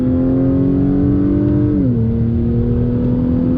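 A 2021 Acura TLX A-Spec engine drones loudly at high revs in third gear, dipping in pitch briefly as it shifts, then pulling steadily again.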